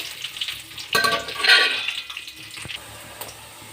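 Green chillies and onions hitting hot oil in a village kitchen for chicken curry, a sudden hiss and sizzle that swells and then settles into a steady, moderately loud frying crackle with no talking.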